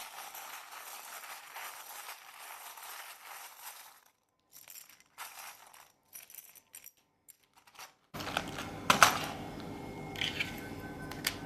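A tarot deck is shuffled by hand. Soft papery flicks and rustles come in short, scattered bursts with quiet gaps between them, followed by a louder, denser stretch of handling noise near the end.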